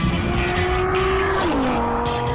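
Lamborghini Murcielago engine revving hard as the car pulls away, a loud sustained roar with rising pitch that drops briefly at a gear change, then climbs again, close and continuous.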